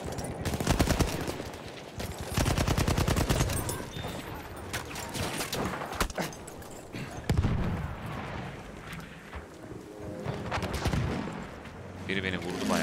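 Repeated bursts of automatic gunfire and single shots in the video game Battlefield 1, loud and close with sharp cracks and pauses between volleys amid battlefield noise.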